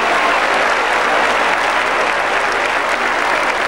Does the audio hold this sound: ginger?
no